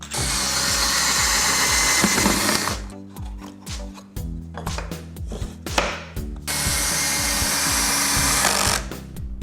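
A power drill drives screws to fix side panels onto a DIY rustic wooden outdoor storage bench. Loud close whirring runs come in two long bursts with a stretch of short stop-start pulses and clicks between them.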